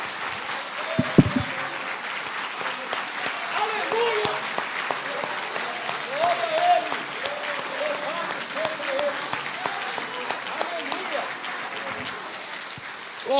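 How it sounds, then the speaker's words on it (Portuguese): A church congregation applauds during a sermon, a steady spread of clapping that carries on for over ten seconds with voices and cheers mixed in. "Então aplauda Ele mais uma vez."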